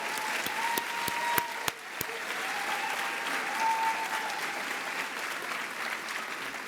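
Sustained applause from a gala audience at an awards evening, a steady roar of many hands with a few sharp, close claps standing out early on, and a faint tonal murmur beneath.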